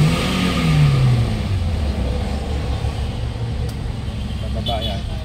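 A 2016 Toyota Avanza dual VVT-i engine revs just after its throttle body was refitted, rising to a loud surge, then settling into a steady, rumbling high idle with mechanical ticks nearby.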